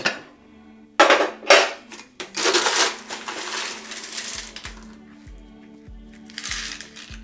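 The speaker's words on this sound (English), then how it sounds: "Top with more crushed ice." Crushed ice is scooped and poured into a double rocks glass holding a Mai Tai, with several crunchy, gritty bursts and a softer scraping tail, close and fairly loud, with light music underneath.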